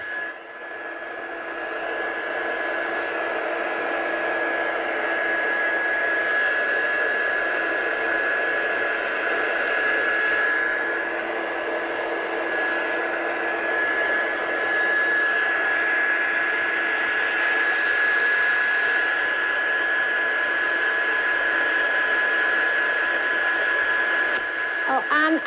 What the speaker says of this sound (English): I'm just drying this off really quickly